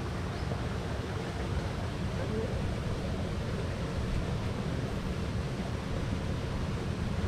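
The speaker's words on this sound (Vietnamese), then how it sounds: "Đây, bên này là con suối này." A forest stream flows nearby with a steady, even rushing of water that stays unchanged from start to finish, with no voices over it.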